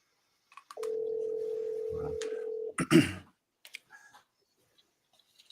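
A steady telephone dial tone holds for about two seconds, then a burst of clicks and a short dialing sequence as a call is placed; a few faint clicks follow before quiet.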